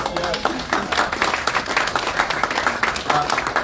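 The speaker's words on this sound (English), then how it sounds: "I think we need to give Jenny Lynn a big round of applause." An audience applauds Jenny Lynn at a community event supporting new citizens, with busy, close clapping that rises and falls while a voice and crowd murmur carry over it.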